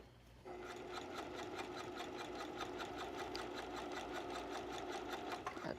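A sewing machine runs slowly and steadily, under-stitching the facing of a little black dress, its needle pulsing in an even, close rhythm from start to finish with no voices.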